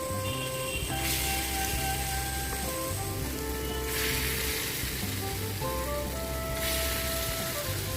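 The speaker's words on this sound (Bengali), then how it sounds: "এখন আমি চামচের সাহায্যে পকোড়া শেপ করে ভেজে নেব।" Moong dal pakoras fry in white oil in a wok, a loud, continuous bubbling sizzle with brief surges of hiss as batter drops in, and faint musical background underneath.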